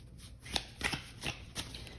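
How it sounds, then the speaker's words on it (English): Tarot cards are shuffled close by in several quick papery riffles and slaps, about four distinct bursts in two seconds, soft and crisp with no talking. "I will give this a bit of a shuffle on camera"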